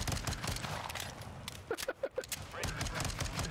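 Gunfire in Call of Duty, each click of a faulty mouse firing a pistol twice, with a short cluster of sharp shots in the middle over a steady busy game background.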